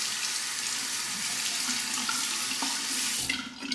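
Cold water runs steadily from a tap to rinse a Parker 66R safety razor. The flow is loud and close and continuous, with a brief splashing change near the end, and there is no speech.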